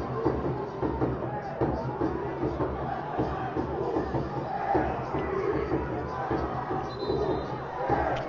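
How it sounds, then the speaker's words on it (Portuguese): A football crowd at an amateur Copa Sul 2022 match between Muqui and Graúna celebrates in a dense, continuous roar of cheering and chatter that fills the whole stretch at a distance, mixed with crowd babble. "A torcida vai à loucura, fazendo a sua festa"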